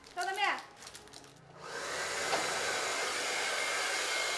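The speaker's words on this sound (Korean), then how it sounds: "머리 말릴 때 사용하는 드라이기를 사용합니다" A hair dryer used to seal a Maotai liquor bottle switches on partway through and keeps up a steady, airy whooshing roar, preceded by brief indistinct background sounds.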